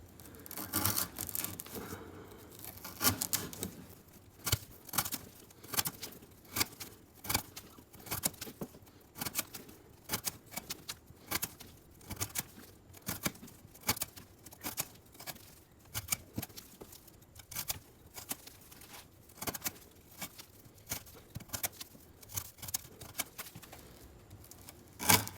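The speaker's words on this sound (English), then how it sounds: "we're gonna cut some of this 1/2 inch twisted sisal rope" A knife slicing repeatedly through half-inch twisted sisal rope, each cut a short crisp fibrous snap in a steady run of many strokes, close and alone.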